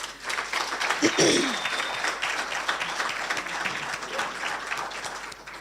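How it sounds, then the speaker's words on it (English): Audience at a university hackathon prize giving ceremony applauds steadily, a broad continuous clapping wash with a brief voice or cheer near the start. "A round of applause to Mr. Mash"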